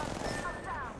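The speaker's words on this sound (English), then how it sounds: "I am taking fire, friend." Gunfire in the Apex Legends video game, a rapid burst of shots over a dense, noisy mix lasting about a second.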